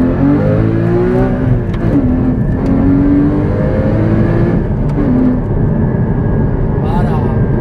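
A Porsche Cayman GT4 981 accelerates hard out of a roundabout, its engine note climbing loud and close in sustained rising sweeps, easing briefly before revving up again throughout.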